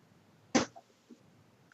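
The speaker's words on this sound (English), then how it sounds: "He coughs on the ground." A single sharp cough from a game character lying on the ground, a short loud burst followed by a couple of faint wet sounds against quiet background.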